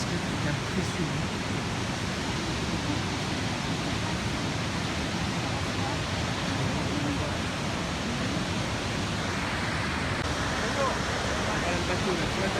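The Iguazu waterfall cascade roars as a dense, continuous rush of falling water, loud and steady throughout with no break.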